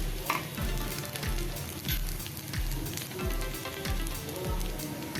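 Sabudana vadas fry in just a couple of drops of oil in a pan, giving a steady close sizzle and crackle with soft stirring scrapes, alone with no talk.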